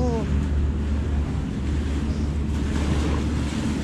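Ocean waves at Approach Beach in Ting Kau at high tide: a steady broadband wash of surf with wind rumble at the microphone, continuous and fairly loud, with a brief voice at the start.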